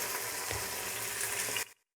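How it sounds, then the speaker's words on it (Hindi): Half a kilo of chicken sizzles and fries with golden onions in a pan, a steady close crackle that cuts off abruptly near the end. "इसको हम 3 से 4 मिनट भून लेंगे।"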